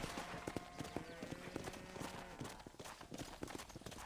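Horse hooves clip-clop in a Rockstar western video game, the clopping beats quick and fairly steady while a horse moves along. They are moderately faint over a soft background, and a horse snorts or whinnies once.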